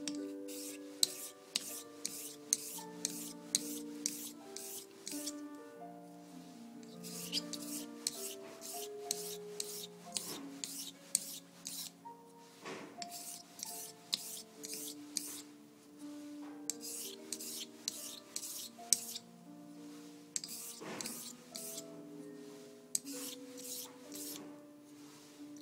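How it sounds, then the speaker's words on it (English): Dovo straight razor drawn in diagonal honing strokes across a Nakayama Asagi natural whetstone, giving a steady rhythmic series of soft close rubbing swipes in quick groups, with no talking. "So I'm making all diagonal strokes here so that when I view the edge under my microscope, these strokes from this stone will look diagonal."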